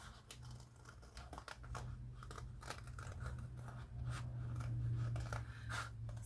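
Scissors snip through floral paper while making a collage gift pouch envelope, giving a close, quiet series of irregular crisp cuts and rustles over a low steady hum, with no talking.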